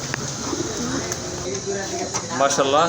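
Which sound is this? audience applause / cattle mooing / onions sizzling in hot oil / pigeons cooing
pigeons cooing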